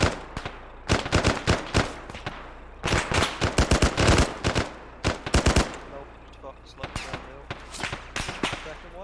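Rapid bursts of automatic gunfire in a video game firefight, loud and close, coming in clustered volleys with short gaps, several shots per burst, with voices talking between them.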